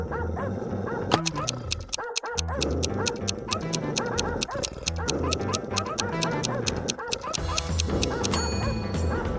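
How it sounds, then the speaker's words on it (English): Several dogs bark, yip and whimper in quick repeated bursts, fairly close and loud, over a steady music bed that carries through the whole stretch. "Suddenly, the dogs went out of control."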